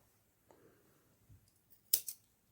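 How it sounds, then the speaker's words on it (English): A crochet yarn strand is snipped with scissors: a couple of soft handling taps, then two crisp close-up blade snips in quick succession in a quiet room. "I have to cut the yarn"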